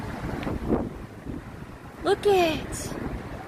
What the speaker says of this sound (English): besides the fact it's really windy